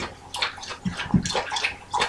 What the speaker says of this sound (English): that's my dog licking water at the bowl right now